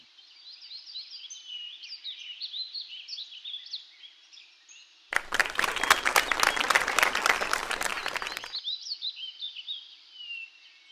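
Recorded applause played during an English lesson for students, a short burst of crisp rapid clapping lasting about three seconds, sandwiched between stretches of chirping birdsong.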